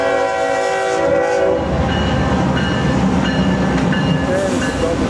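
A CSX double-stack freight train roars past close by in the Cincinnati and Northern Kentucky area. Its horn sounds at the start, then loud, continuous wheel clatter and rumble follow.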